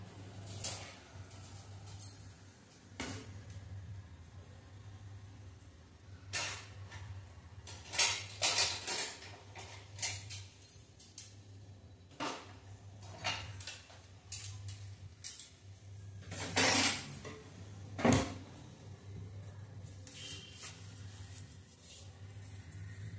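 Dry semolina tipped into a pan for roasting over a low flame, with scattered light scrapes, clinks of utensils against metal and a few louder knocks, close and fairly quiet with no talking.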